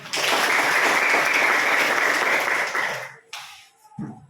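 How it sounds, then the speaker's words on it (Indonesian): Students in a classroom clap together during a lesson, a loud, dense burst of applause lasting about three seconds before cutting off, followed by faint movement and a brief murmur. "Tepuk tangan."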